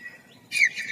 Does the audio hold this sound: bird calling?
yes